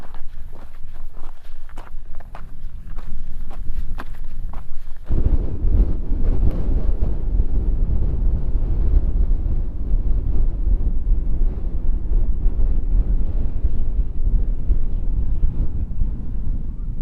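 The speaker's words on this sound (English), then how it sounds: "So I don't know how well you can hear me because it is windy." Strong wind buffets the microphone while hiking outdoors on a wild camping trip, starting with footsteps and light gusts, then turning into a loud, continuous low roaring rush that persists to the end.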